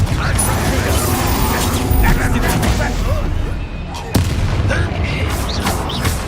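Fiery blasts and crashing impacts from Confringo spells in the Hogwarts Legacy video game, loud and dense over constant combat rumble, with a sharp burst near the four-second mark.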